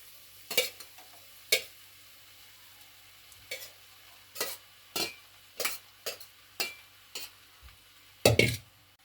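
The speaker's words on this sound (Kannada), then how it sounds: "ಇವಾಗ ಚೆನ್ನಾಗಿ ಕಲಿಸ್ಕೊತಾ ಇದ್ದೀನಿ" Soaked puffed rice is stirred and mixed in a pan, with a close series of distinct scraping strokes, roughly one per second, and a heavier clatter near the end.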